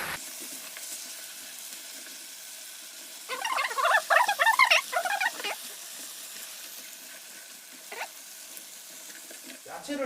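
Chuncheon dakgalbi is stir-fried in sauce with a silicone spatula, giving a brief burst of sizzling and scraping in the middle of an otherwise quiet stretch, plus a few faint clicks near the end.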